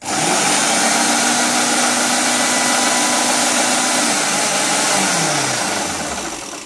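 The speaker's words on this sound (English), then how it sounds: "we're going to bring them right over here to the food processor, dump them in, and then we're going to go with a little pulse" A food processor grinding cauliflower down fine runs as one sustained, loud motor whir lasting about six seconds before slowly winding down, with no speech.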